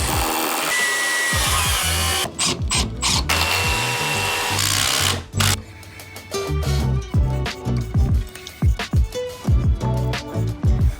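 A power driver sinks GRK structural screws through block into a double rim joist during an exterior renovation, giving several loud whirring bursts of varying length with short pauses between them.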